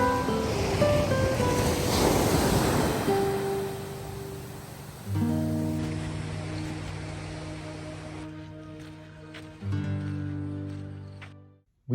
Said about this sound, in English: Marconi Beach at night.